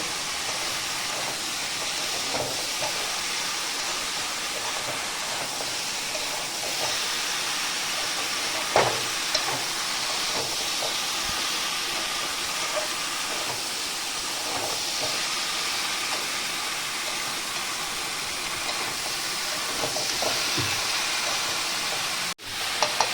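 Red amaranth stem curry sautés in a pan with spices, giving a steady, even hiss of sizzling throughout with a few faint clicks and scrapes.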